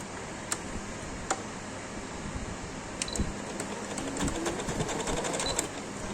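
Close by, a sewing machine stitches a sleeve onto a baby top, a low, even running hum broken by sharp little ticks and clicks.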